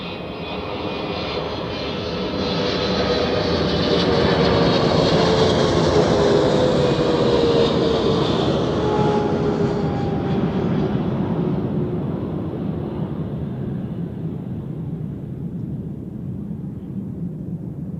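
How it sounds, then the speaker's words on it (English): A Swiss Boeing 777 arriving from Sao Paulo lands at Zurich Airport, its loud jet roar swelling as it passes close by, then slowly easing off into a sustained, fading rumble. "now we have 3 Swiss 777s in a row"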